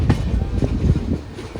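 Duronto Express coach interior rumbling and rattling as the train rounds a curve, with loud low clatter and wind noise throughout.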